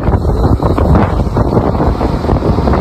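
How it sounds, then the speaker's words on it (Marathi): Heavy rain and wind during a ride, a loud, constant roaring rush of wind buffeting the microphone with no pauses. "बघा पाऊस बघा, पाणी खूप भरलेलं आहे बघा।"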